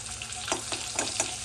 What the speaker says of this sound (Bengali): ফুলকপিটা ভাজা হয়ে গেছে